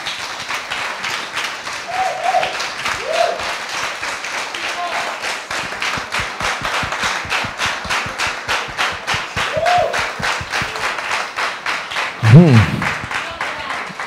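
A church congregation at a baptism claps in a fast, steady unison rhythm, loud and close, with brief voices and a sung or shouted phrase over the clapping.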